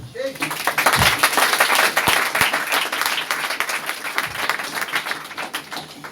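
A church congregation applauds and cheers during a French-language sermon, a dense crackle of many hands clapping mixed with voices, fairly loud and steady for several seconds before tapering off.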